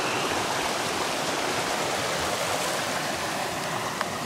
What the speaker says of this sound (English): So water's coming in from in the main channel.